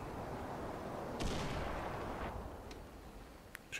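A single gunshot-like blast in the video game Far Cry 4, a sharp loud crack followed by a rolling decay, with a few fainter distant pops afterward over steady game ambience.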